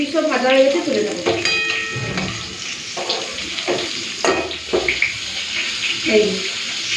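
Fish frying in hot oil in a home kitchen, a continuous close sizzle broken by utensil clinks and scraping knocks, with a voice speaking briefly over it.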